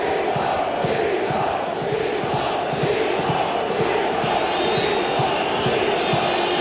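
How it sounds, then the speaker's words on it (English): A Berlin football crowd at a Euro 1996 international, roaring and chanting in a dense, sustained wall of cheering that carries from far across the stadium. "this German crowd, this Berlin crowd, seeing an international for the first time in a long while, seized by patriotic fervor"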